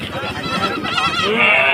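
A goat bleats loudly and close by with a wavering, drawn-out cry, heard among the chatter of a busy weekly livestock market.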